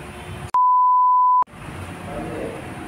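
A single long steady electronic beep from the remote alarm of a Euro Motor Falcon 180i motorcycle, loud and unbroken for about a second, set against a background of muffled noise.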